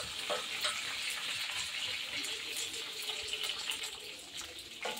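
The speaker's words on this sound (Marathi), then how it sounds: "मिरची छान अशी जिरा मोहरी आणि मिरची एकजीव होईपर्यंत आपल्याला परतून घ्यायची आहे।" Green chillies with cumin and mustard seeds are sautéed in a pan, giving a faint, steady sizzle with light scraping and stirring noises throughout.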